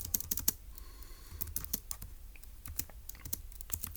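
Someone types on a computer keyboard while taking notes, producing rapid, close clicks and clacks in irregular bursts against a quiet background.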